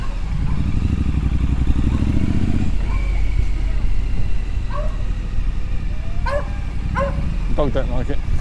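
A dog barks and yips several times at close range as a motorcycle, a Triumph Scrambler, rumbles past on a village street, with the engine drone running underneath throughout.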